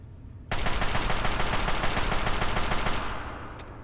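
A weapon in Fallout 3 on Xbox Series S fires a sustained rapid burst that cuts in sharply and rattles on steadily for about two and a half seconds before stopping, loud and close with no talking.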